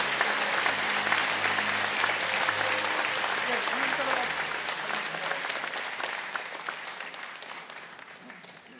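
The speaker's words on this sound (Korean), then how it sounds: "여러분께 박수로 환영하시죠." A church congregation at a Sunday worship service applauds to welcome the pastor, a dense, sustained clapping from a large crowd that gradually thins and fades, with a voice speaking over it at the start.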